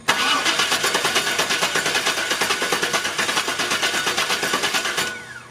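A Chevy 350 Vortec V8 in a Suburban cranks steadily without catching, a loud, fast rhythmic chugging of the starter that runs for about five seconds and then stops, with no voices.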